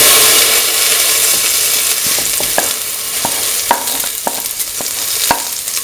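Lentils frying in heated oil for a snake gourd and coconut milk stew, a steady loud sizzle with scattered sharp pops and crackles across the whole stretch, no voices.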